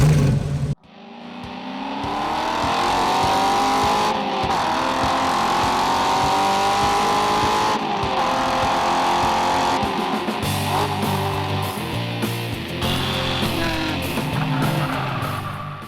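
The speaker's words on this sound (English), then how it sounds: "we're racing Spring Mountain, Charleston Peak here in Nevada with SVRA in the AutoXandTrack 67 Mustang" A 1967 Mustang race car laps the Spring Mountain Charleston Peak circuit in Nevada, its V8 rising and falling through repeated revs and gear changes, loud and close from the cabin, with sharp lifts and pulses late on.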